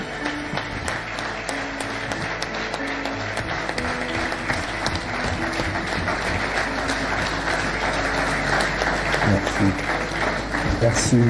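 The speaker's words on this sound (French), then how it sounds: "Donc je vous demande d'applaudir et d'acclamer pour le professeur Yabara Boukari" Audience applause and cheering at a public event honouring Professor Boukari, a dense, steady wash of clapping with crowd voices mixed in, continuing for the full stretch and swelling slightly toward the end.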